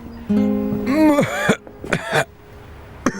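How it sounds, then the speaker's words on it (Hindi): A man coughs and clears his throat in a dubbed Chinese feature film, a few separate hacking bursts with short gaps between them, close and fairly loud, with no talk over them. "जब भी मैं पूछती हूँ तुम खांसना शुरू कर देते हो।"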